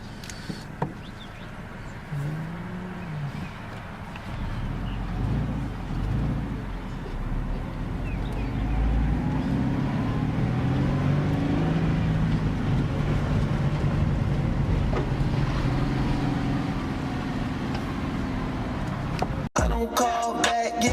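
A rebuilt FRS sports car is driving, heard as a steady, broad engine and road rumble that holds throughout and swells slightly in the middle, ending with a brief sharp burst.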